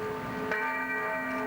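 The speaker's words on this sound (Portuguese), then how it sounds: "os sinos das igrejas assinalaram a hora da homenagem" Church bells ringing out in a Spanish or German city to mark a commemorative moment, a sustained tonal peal with strong overlapping harmonics, loud and steady throughout with a fresh strike partway through.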